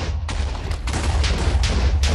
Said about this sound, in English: We still have no clean explosion.